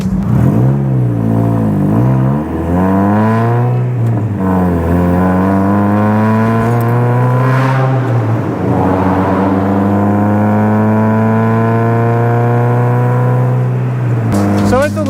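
A small, snappy sports car is driven hard, its engine climbing in pitch and dropping back through a series of gear changes. The engine sounds close and loud, with a steady drone between the shifts.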